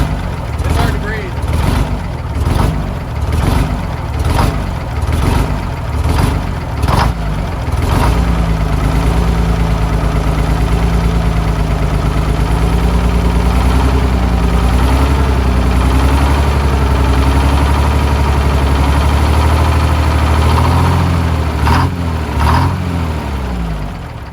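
A Detroit Diesel 671 runs rough right after an engine swap, idling with a heavy rumbling clatter, then revs up into a loud, sustained drone and settles back, with someone speaking over it.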